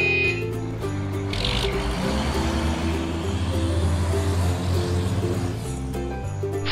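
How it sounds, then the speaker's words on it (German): A toy truck's engine rumbles low and steady in a Brio wooden toy cartoon, building in loudness as it draws near, with a brief hiss like air brakes near the end. "Hört ihr das? Da kommt ein Laster."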